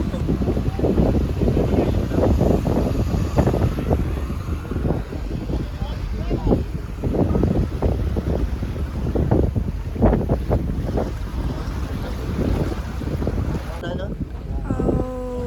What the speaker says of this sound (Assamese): এয়া ইফাৰৰ পৰা ফেৰী এখন আহিছে